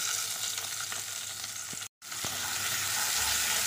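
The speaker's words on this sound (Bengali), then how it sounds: "এবার ওই একই তেলে পেঁয়াজ কুচি দিয়ে দেব" Chopped onion fries in oil left in the pan after frying fish, giving a dense close sizzle with a couple of light stirring clicks and a brief dropout to silence midway.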